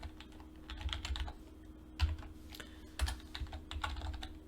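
Keys on a computer keyboard are pressed in short bursts, including backspace and return, as close, crisp clacks in irregular clusters with brief pauses between them.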